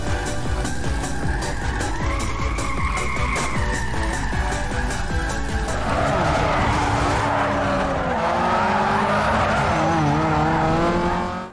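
Drifting video game car sliding through corners with long tire squeals over a revving engine, a loud, continuous stretch of skidding with no pauses.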